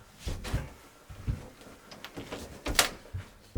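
A swollen door is forced open in a series of heavy thuds and knocks, with wooden scraping and a sharp crack near the end, all close and fairly loud.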